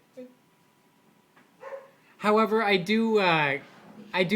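A pet dog barks and whines in loud, drawn-out bursts close to the microphone, after a quiet start with a couple of soft yips.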